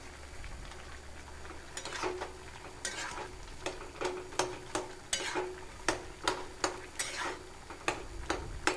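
Vegetables being stirred with turmeric in a pan, a run of sharp, irregular spoon scrapes and clicks against the pan over a low, steady frying sizzle, close and fairly quiet.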